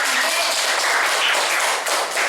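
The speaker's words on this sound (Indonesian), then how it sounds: "Kasih tepuk tangan." Children applaud together in a classroom, a dense, steady patter of clapping that fills the short stretch evenly from start to finish, close and fairly loud.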